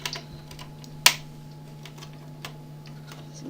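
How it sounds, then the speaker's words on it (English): Small screws being removed from the daughter board of a Dell Inspiron laptop, heard as faint ticking and light clicks, with one sharp metallic tap near the start, over a steady electrical hum and no talk. "Removing 2 screws that hold the daughter board in place for the wireless card and the USB 3."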